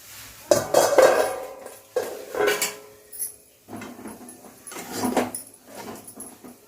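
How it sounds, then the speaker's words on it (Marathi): A lid is lifted off a cooking pot of besan mixture, with several metallic clanks and scrapes of pan and utensil in separate bursts, close and fairly loud. "आपण हे झाकण काढून पाहू"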